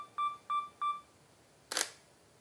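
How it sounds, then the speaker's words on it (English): Camera on a five-second self-timer during a macro photography setup: three short, clear electronic beeps at a steady pace, then a single crisp shutter release, close and loud with no talking. "And we've got our 5 second timer."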